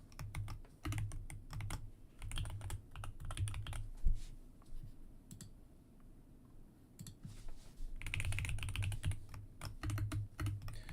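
Rapid clicking of a computer keyboard as an email address is typed in, with bursts of close, busy keystrokes separated by a quieter pause in the middle.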